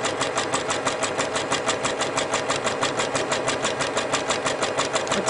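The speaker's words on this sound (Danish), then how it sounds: "og så er vi klar til at sy vores knaphul. Og den kører det simpelthen i én arbejdsgang." A Pfaff or Husqvarna Viking sewing machine runs a one-step buttonhole, its needle stitching in a steady, fast, even rhythm at close range, with no voices.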